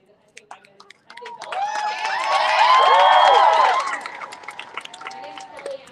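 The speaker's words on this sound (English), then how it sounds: "let's give her a big cheer" A crowd at a rally outside a capitol cheers and shouts, swelling quickly from near quiet to a loud sustained roar that holds for a few seconds and then fades back, with scattered voices and whoops.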